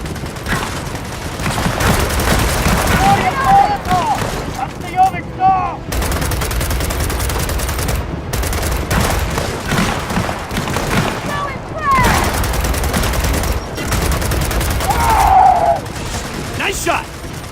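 Gunfire in Gears of War 4, with dense, loud bursts of automatic fire and booming shots rattling through the whole battle, and voices shouting over the shooting.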